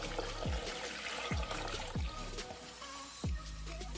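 Water poured into a blender holding mango and ginger pieces, a few short gurgling splashes and trickles in quick succession, fairly quiet and close.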